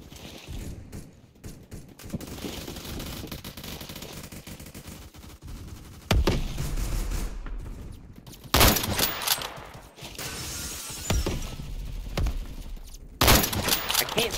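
Rapid bursts of video game gunfire, including automatic weapon fire, crackle loudly and repeatedly across the whole stretch, with a few sharper heavy shots standing out.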